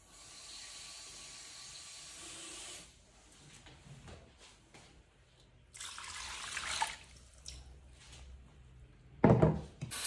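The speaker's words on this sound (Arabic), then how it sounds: "وغادي نزيدو عليها هاد المرقه هادي" Broth poured into a cooking dish makes a steady hissing splash that stops, followed by quieter clinks and handling noises, then another short pour and a sharp clatter near the end, close and soft.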